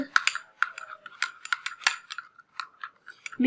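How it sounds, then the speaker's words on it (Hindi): A spoon scrapes and clinks against a small bowl while egg white is stirred into a homemade skin paste, quick irregular metallic ticks and scrapes at close range with no talking. "अब इसको कर ले अच्छी तरह से मिक्स"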